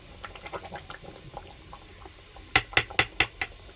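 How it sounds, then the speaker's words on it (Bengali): A fork stirs cooked khichuri in a pot, giving soft scraping and light clinks that end in a quick run of five sharp metallic taps on the pot rim, close and fairly quiet. "আমি কাঁটার সাহায্যে একটু ঘেঁটে দিচ্ছি।"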